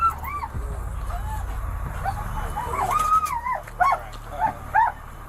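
A police K-9 dog whimpers, yips and barks in short, rising bursts during an arrest, heard over a steady low rumble and shouting.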